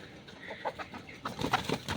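A yellow hen clucks in short, irregular bursts nearby, fairly quiet, with some rustling between the calls.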